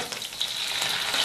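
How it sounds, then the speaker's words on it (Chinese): Chili peppers stir-fried in a wok with browned pork slices and garlic, a loud dense sizzle throughout with soft stirring, no voices. "将肉片炒至表皮微黄，然后下入蒜子炒香，炒香后下入辣椒"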